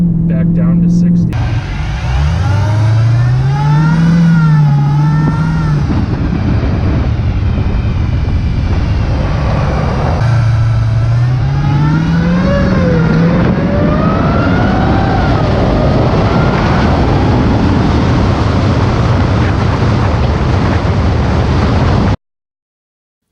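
Dodge Charger Hellcat engine revving hard under acceleration, loud and close, with pitch climbing through repeated gear pulls over a sustained roar, heard from inside the car with a voice talking over it.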